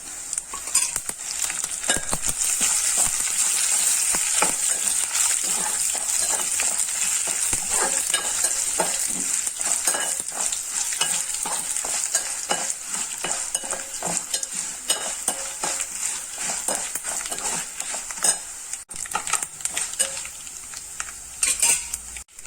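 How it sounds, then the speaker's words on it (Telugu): Urad dal, chana dal, cumin, mustard seeds and two or three dry red chillies crackle and fry in hot oil as a tempering for Andhra-style spinach dal, a dense steady sizzle with occasional spoon scrapes against the pan. "ఇప్పుడు పోపు వేసుకుంటున్నాను"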